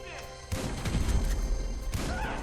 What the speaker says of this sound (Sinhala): ඌ බෝම්බයක් ගැහුවා